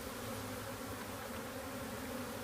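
A dense swarm of Africanized honey bees drones steadily at close range during a live removal in a neighborhood, a continuous even buzz with no pauses.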